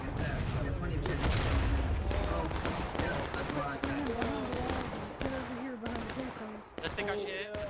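Volleys of musket fire and booming shots crackle through a Civil War battle in the video game War of Rights, dense irregular reports near and far, heard under excited, overlapping shouting from several players.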